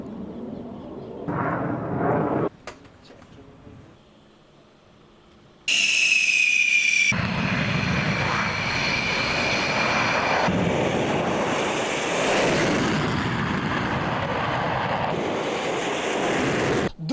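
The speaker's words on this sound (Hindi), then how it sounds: "इस वक्त हम मौजूद हैं जोधपुर के एयरबेस में। ये सुखोई 30 है MKI।" A Sukhoi 30 MKI fighter jet at the Jodhpur air base roars loudly with a sustained engine blast and a sharp whining whistle, after a quieter start broken by a few abrupt cuts.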